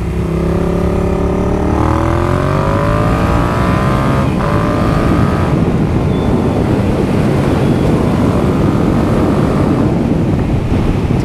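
A 2018 Yamaha MT-07 motorcycle, restricted to A2 power, roars loud and close as it accelerates, its engine note sweeping upward through the gears with a shift near the middle, under heavy wind buffeting.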